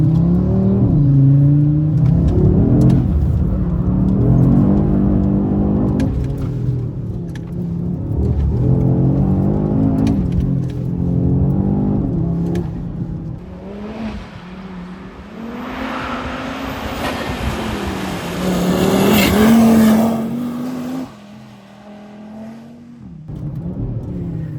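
Audi RS3 engine revving hard during a drift, a loud sustained roar whose pitch rises and falls over about twenty seconds, with a high-revving surge near the end before it drops away.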